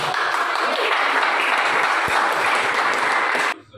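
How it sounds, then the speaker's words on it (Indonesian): Classroom audience bursts into applause, a loud, dense spread of clapping hands that continues steadily for over three seconds before cutting off abruptly, with no talking over it. "Beri tepuk tangan."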